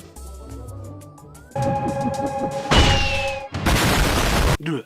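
Spyro the Dragon video game fireworks pop and burst in quick succession, with crackling explosions and whistling tones over synthetic background music.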